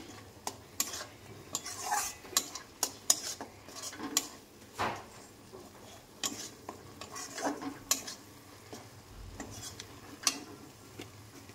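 Spices for a Bengali pomfret fish curry being mixed in a bowl, with irregular clinks and scrapes of a spoon against metal, quiet and close, with no talking.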